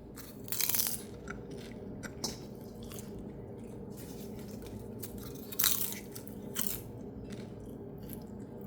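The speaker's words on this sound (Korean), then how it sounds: "Every bite is crispy." Crispy homemade popcorn being bitten and chewed close up, several sharp crunches at irregular intervals amid softer chewing and quiet squishy mouth sounds.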